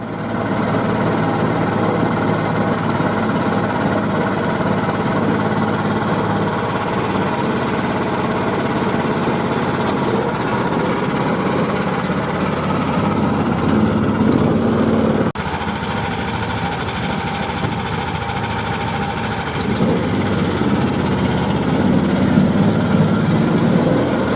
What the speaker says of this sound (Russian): Так, ну давай, заведем, испытаем. Заводится